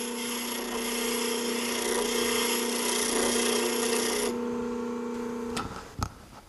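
A steady, bright abrasive hiss of a wheel cleaner dragged straight across a spinning grinding wheel, loud and continuous for several seconds before cutting off, followed by a couple of sharp knocks.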